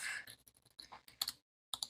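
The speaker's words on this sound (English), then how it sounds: "Just keep on typing random stuff." Typing on a computer keyboard, a short run of quiet, close key clicks in irregular bursts, broken by a brief pause before a final couple of taps.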